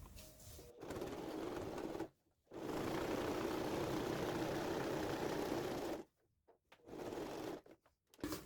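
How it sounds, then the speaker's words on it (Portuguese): A domestic sewing machine runs a seam on a men's fabric toiletry bag with a front pocket, whirring in several bursts of fast, even stitching with brief pauses between runs, close and moderately quiet. "Então, vamos passar uma costura aqui."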